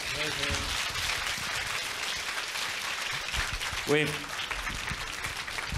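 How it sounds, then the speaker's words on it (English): An audience applauds at the close of a Buddhist Dharma talk, a dense, steady wash of clapping lasting several seconds, with a voice briefly cutting through near the middle. "Let's give a round of applause."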